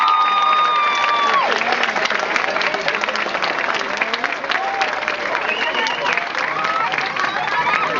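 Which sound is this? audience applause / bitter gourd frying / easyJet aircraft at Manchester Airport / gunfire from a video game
audience applause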